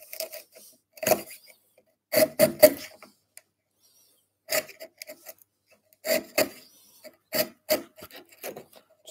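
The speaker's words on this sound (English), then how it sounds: "with the small chisel, it'll take a smaller cut" A small chisel pares wood while a halving joint is cut, giving short rasping scrapes in irregular bursts separated by brief pauses, close and fairly quiet, with no talking.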